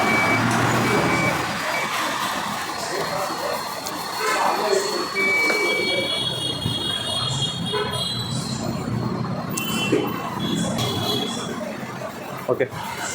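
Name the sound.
electric scooter reverse mode beeping while reversing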